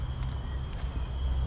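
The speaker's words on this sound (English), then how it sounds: "I could hear the sound of insects, a lot of cicadas, a lot of birds" Cicadas and other insects buzz along a forest stretch of the historic Wallace trail, a thin, steady high-pitched drone that holds evenly throughout at moderate distance, with no talking.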